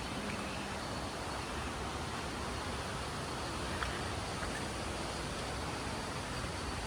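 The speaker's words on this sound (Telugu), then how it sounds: "ఆ వాటర్ ఫాల్ సౌండ్," Steady, faint rushing water from a waterfall near a rock house at a Munnar eco resort, a smooth unbroken broadband roar with a couple of tiny clicks, no voices over it.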